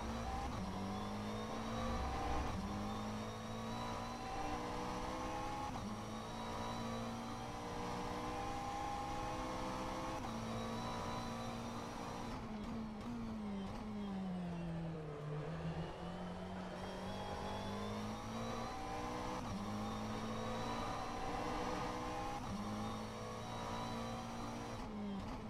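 McLaren 720S GT3 race car in the rFactor 2 racing game at Sebring, engine droning steadily at moderate volume with shifting revs and a brief lift and pull-away midway, no voices.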